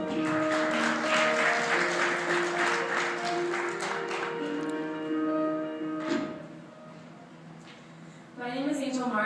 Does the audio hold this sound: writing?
no